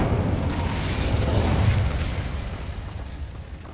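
A Confringo blasting spell detonates in Hogwarts Legacy, a loud, broad rumbling explosion that swells and then slowly fades over a few seconds, with no voices.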